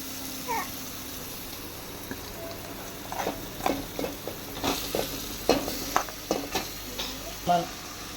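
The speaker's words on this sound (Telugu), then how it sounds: "ఇప్పుడు మనం మ్యారినేట్ చేసుకున్న చికెన్ వేసుకుందాం." Marinated chicken tipped onto softened tomatoes in a pan for a home chicken curry, followed by a series of irregular scraping stirs and a light sizzle, moderately close, with some faint background noise between strokes.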